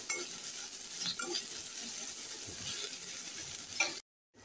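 Onions with green chillies frying lightly in a pan for a tomato mash, a soft steady sizzle with a few stirring scrapes, fairly quiet, then a brief cut to silence near the end.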